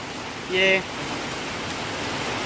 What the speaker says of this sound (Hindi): ये देखिए कितना बारिश हो रहा है।